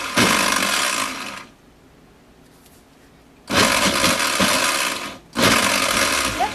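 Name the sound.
blender pulsing apple sauce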